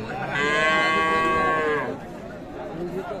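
A crossbred calf lets out one long, close moo lasting over a second, with faint voices murmuring in the background at a cattle market.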